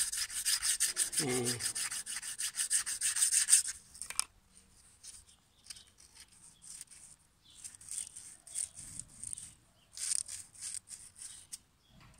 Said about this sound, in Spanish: ahora lijarla un poco, que te quede más, un poquito más fina